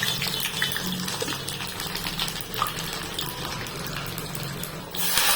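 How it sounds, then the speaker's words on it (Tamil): Garlic sizzles in hot oil with fenugreek and mustard seeds, a dense, steady crackle and spatter close by, with occasional stirring scrapes and a louder surge of sizzling near the end. "வெந்தயம் போட்டு வெந்தயம் கடுகும் போட்டு நல்லா சூப்பரா பொரியுது"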